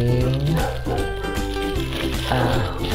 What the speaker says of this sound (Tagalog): Sorry sa maingay na aso.